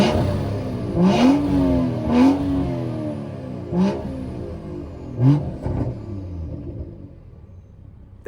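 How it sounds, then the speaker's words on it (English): BMW 340i engine revving close at the intake, a series of separate throttle blips, two long climbing revs followed by shorter bursts, each a loud rising growl that drops back to a low idle rumble. "Let me rev it with the mic by the intake."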